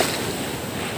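Big ocean waves wash onto a beach during seaside fishing, a loud, dense rush of surf filling the moment without any voices.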